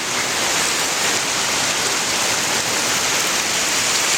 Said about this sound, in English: Water's probably sheeting off his roof.